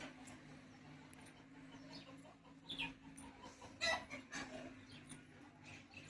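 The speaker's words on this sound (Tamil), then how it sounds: "கோழி இருக்கும் போல." Soft, intermittent hen clucks sound at a distance outdoors in Ooty, with a couple of louder calls standing out midway against quiet background noise.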